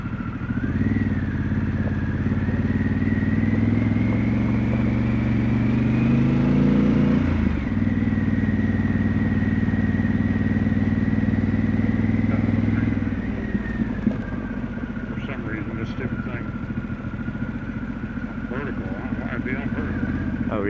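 A Harley Davidson and a Honda CRF300L on a dual sport ride, with a loud steady engine drone and wind rush, the engine pitch rising and then dropping before settling, heard from on the bike.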